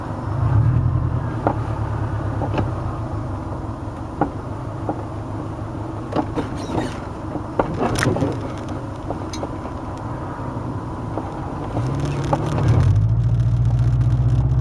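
A replica 1957 Porsche 356A cabriolet cruising East Tennessee back roads, heard from inside: a steady engine drone throughout, rising at the start and again near the end with gear changes, plus occasional small clicks and knocks from the cabin.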